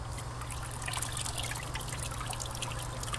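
A water and bleach mixture swirled around antlers in a container as they are stirred for cleaning, giving a steady, continuous liquid swishing and trickling close by, with no talking.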